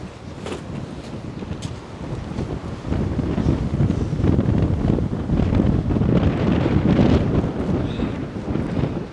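Blustery spring wind rumbles against the microphone in Odesa's Maly Fontan area, growing louder and steadier partway through, with no talking.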